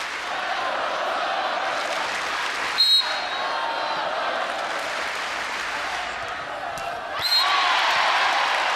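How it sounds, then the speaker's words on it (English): A crowd at a women's college volleyball tournament match in a pavilion cheers and claps steadily, with brief swells and sharp shoe squeaks, under a commentator's voice. "we hear the crowd really getting behind the Gophers"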